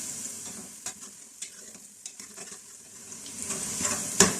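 Cumin, cardamom, black pepper, cloves and other garam masala spices frying in oil for beef karahi, a soft crackling sizzle punctuated by regular spoon scrapes and stirs, growing a little louder toward the end.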